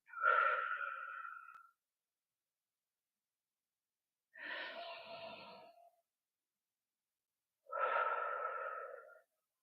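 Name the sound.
deep breathing in through the body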